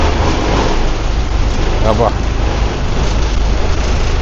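Heavy rain pours steadily at Sentosa, Singapore, a dense loud hiss mixed with wind-like roar, while a voice speaks briefly over it.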